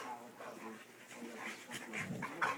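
A dog whimpers and whines softly in short, high-pitched bursts, quiet and close by.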